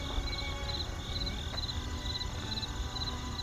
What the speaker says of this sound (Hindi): चारों तरफ सन्नाटा और बस झींगुरों की आवाजें गूंज रही थीं